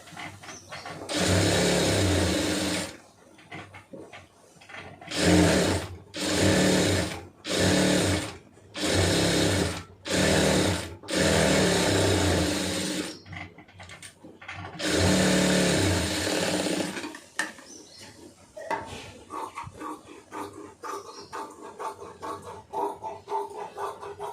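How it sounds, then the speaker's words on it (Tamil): Sewing machine stitching a large sleeve, running in a long burst, then a series of short, evenly spaced runs, then another long run, with quiet handling noises between and no talk. "இப்போ சுற்றி வந்து தையல் மாத்திரம் ஓட்டிடுங்க"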